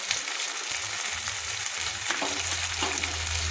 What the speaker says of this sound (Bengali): আদা রসুনটাকে আমি তেলের সঙ্গে কষিয়ে নিচ্ছি, যাতে আদা রসুনের কাঁচা গন্ধটা চলে যায়।